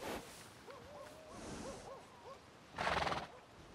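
A horse in Red Dead Redemption 2 whinnies in a quavering, rising and falling call, followed by a brief burst of hoof-like clatter, steady and fairly clear over a faint background hum.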